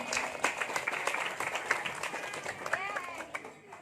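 Audience claps at a Maulid sermon held in an Islamic boarding school in Sukabumi, a scattered burst of hand claps from a hall crowd with murmuring voices mixed in, moderately loud and tapering off.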